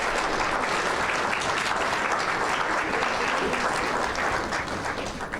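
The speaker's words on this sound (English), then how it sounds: "I want to very strong applause for yourself" An audience at a summit applauds, a dense, steady wash of clapping that stays sustained and even for several seconds with no break.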